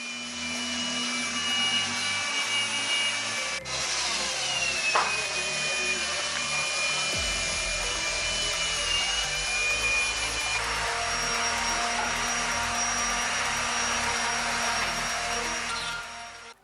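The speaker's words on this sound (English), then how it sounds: "It is easier to use the sanding machine, way better and way quicker." Sanding machine working over wooden crates: a continuous high whirring drone with shifting pitch and a brief change in load partway through, close and steady throughout.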